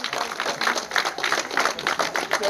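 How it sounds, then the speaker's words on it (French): An audience at a Songo game tournament ceremony applauds a hotel complex owner, with steady close clapping from a crowd of many hands. "Je vous demande d'applaudir"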